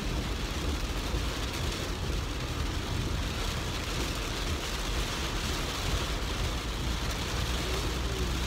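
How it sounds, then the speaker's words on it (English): Rain pours in a dense, unbroken hiss at a steady level, with a low rumble beneath it like a car moving through wet weather. "It's raining."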